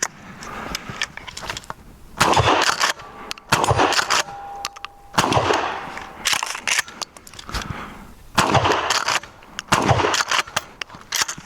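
Bursts of shots from a YHM Victra-12 fired at targets outdoors, sharp loud reports in clustered groups with short pauses between volleys.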